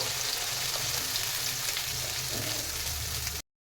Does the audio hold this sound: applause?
no